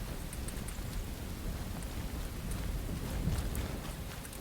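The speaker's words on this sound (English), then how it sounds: "Oh, that rain is really loud." Heavy rain falls steadily in the video game Enshrouded, a constant hiss of drops on surfaces with faint low rumbles beneath, continuous and even with no voices over it.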